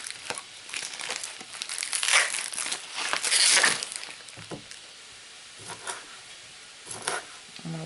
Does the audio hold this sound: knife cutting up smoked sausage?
yes